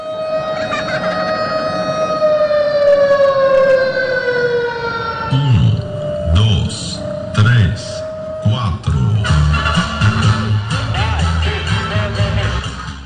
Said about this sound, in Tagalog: Pagsapit ng 8:45 ng umaga, tumunog na ang sirena.